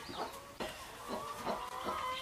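A mother hen kept with her two newly hatched chicks on straw in a shed clucks in a series of short, close, repeated calls with no talking.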